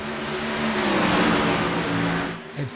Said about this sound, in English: Now, from a distance, everybody, from a distance, the cars sound good, right?